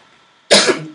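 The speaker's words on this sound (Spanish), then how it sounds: "Perdón, que con esta tos que me tengo." A single harsh cough bursts out close to the microphone after a quiet pause, then tails off with a rough throaty rasp; no speech during it.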